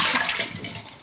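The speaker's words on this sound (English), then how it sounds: "Empty out your bleach water" Bleach water pours out of a flower vase in a short, steady rushing splash of liquid, heard up close and alone for about a second.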